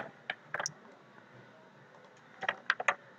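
Typing on a computer keyboard while filling in a web form, with quick clusters of key clicks at the start and end separated by a quieter pause, close and fairly soft.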